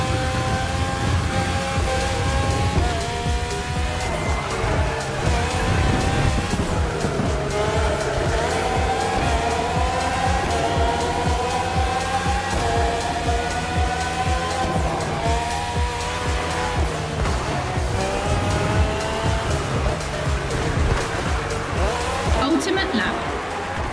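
Red Bull F1 race cars spanning the RB13, RB14, RB18 and RB20, with Renault and Honda engines, scream past at high revs on a game track, engines shifting and overlapping continuously while a voice talks over them.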